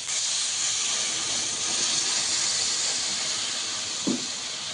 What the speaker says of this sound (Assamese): তেলখিনি বেলেগ হৈ গৈছে এতিয়া ইয়াক মই পানী দি দিম